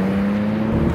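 A BMW M3 Touring engine and exhaust hum at a steady, loud, sustained drone with an even low tone, heard alone for a moment without talk.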